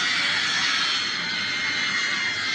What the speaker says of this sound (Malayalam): പ്ലെയിൻ പൊട്ടി ഗൈസ്.